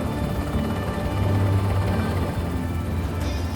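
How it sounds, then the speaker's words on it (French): A Tiger Franco-German attack helicopter flies past, its rotor and turbine sending out a steady, loud drone with a low thumping throb that holds through the whole stretch. "Le Tigre est l'un des hélicoptères les plus réactifs du monde."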